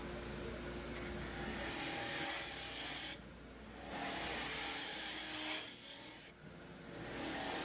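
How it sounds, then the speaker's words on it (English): A hollowing tool scrapes out the inside of a wooden urn spinning on a lathe, making a loud, rasping rush of cutting that pauses briefly twice as the tool is repositioned. "I'm going to clean the majority of it out with the number 1 hollower here"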